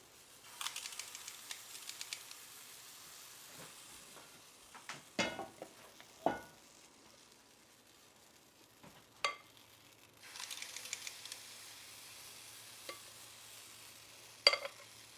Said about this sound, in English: I'm listening to the sizzle